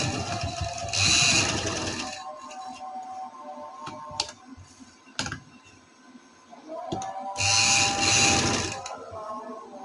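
A sewing machine stitching lace and a strip onto fabric runs in two loud bursts of rapid whirring, each about a second or two long, separated by quieter clicks and handling noises.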